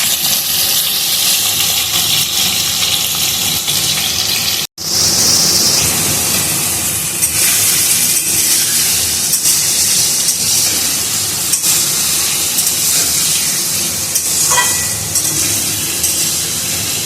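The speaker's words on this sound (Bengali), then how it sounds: "চিমনিটা বোধহয় সার্ভিসিং করাতে হবে, কিছু একটা আওয়াজ হচ্ছে ভাবে।" A noisy kitchen chimney exhaust hood that may need servicing roars steadily and loudly in a broad rushing whoosh. It cuts out for a split second, then resumes unchanged.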